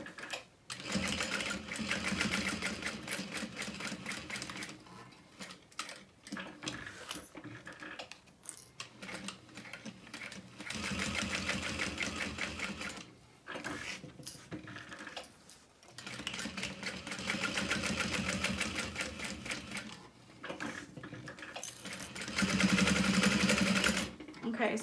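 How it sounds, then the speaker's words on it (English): A sewing machine top stitches a fabric wristlet in rapid mechanical bursts of several seconds each, with short pauses between runs and a voice talking at times. "And now we're going to top stitch."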